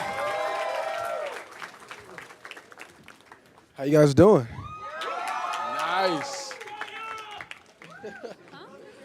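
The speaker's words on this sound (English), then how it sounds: "It's a slightly enthusiastic crowd." Crowd of fans at a live cast appearance, cheering and clapping with a loud burst in the middle, while people talk over the noise throughout.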